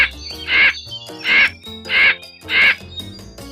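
A crow caws four times in an evenly spaced series, each harsh call loud and close, with quiet gaps between them.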